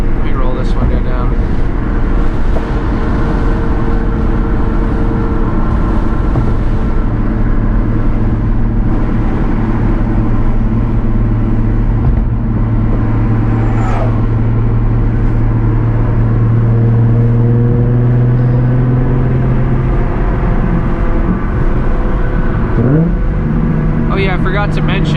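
A Nissan fitted with a Z1 short shifter drives over a bridge with a window rolled down, its steady engine drone mixed with loud rushing wind buffeting the open window throughout.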